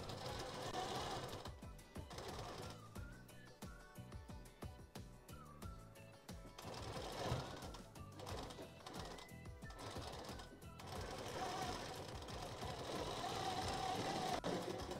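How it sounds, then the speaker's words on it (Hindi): A sewing machine stitches a round-belt blouse, its needle running in a rapid, steady mechanical chatter that is close and continuous, with brief slowdowns between bursts and no talking. "अब इसको उल्टा आप इस तरह से एक सिंगल सिलाई से स्टिच करते हैं"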